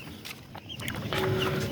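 Sonali chickens, about a month old, clucking softly on a rooftop farm at dawn, with low, scattered calls over a steady background hum that grows slightly louder toward the end.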